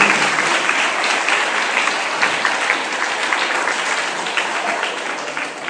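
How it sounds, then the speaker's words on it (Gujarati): Loud, sustained applause from an audience at a free medical checkup camp ceremony, dense clapping holding steady for several seconds before easing slightly. "તાળીઓના ગડગડાટથી આપણે વધાવીએ."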